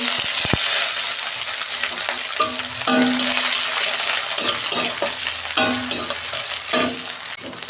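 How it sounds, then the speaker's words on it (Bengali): Onions frying in hot oil with dried red chillies and nigella seeds in a kadai, loud continuous close sizzling with repeated scraping stirs of a spatula against the pan. "পেঁয়াজটা আমি লাল লাল করে ভেজে নেবো"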